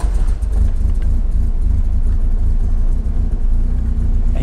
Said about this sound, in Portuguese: É impressionante como é que o carro parte muito mais fácil com qualquer pouquinho de gasolina.